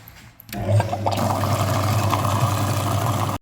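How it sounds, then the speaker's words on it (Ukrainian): Liquid is flushed through the heater radiator of a VW Passat B6, starting with a sudden gush of rushing water and a steady low hum that continue at a constant level, close and without talk. "Поки промивається радіатор пічки"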